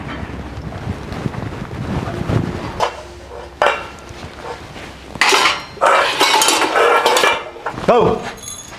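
Dishes, pots and pans clatter in a bursty wash-up in a Haryanvi home courtyard, with loud bright clanks around five to eight seconds over a windy, rumbling background.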